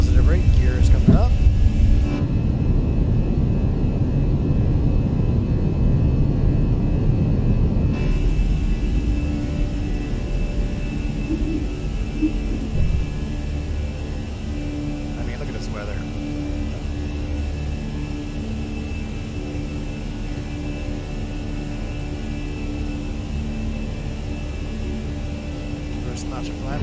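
Fenix A320 airliner in Microsoft Flight Simulator 2020 climbing out of Seattle, a loud steady jet engine roar that is heaviest in the first seconds and then settles to a sustained drone, with a voice talking over it.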